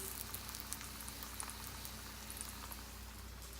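A sweet potato tortilla cooks in a pan with a steady, low, even sizzle that bubbles quietly throughout, with no talking.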